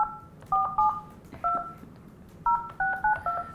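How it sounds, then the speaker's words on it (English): Telephone keypad dialing tones, a quick irregular series of paired-pitch beeps in short bursts, clear and fairly close with a faint background hum and no talking. "you're so good at everything but dialing a phone"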